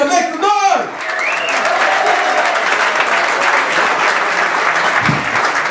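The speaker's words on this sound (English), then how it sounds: "Please give it up for Juan Garcia. Make some noise" Audience applause and cheering break out for a comedian being introduced at a stand-up comedy show, a dense, loud, sustained wash of clapping that fills the room after a brief shout from the stage and continues steadily to the end.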